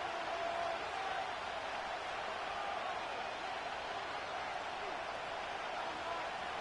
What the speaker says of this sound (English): This crowd into it now.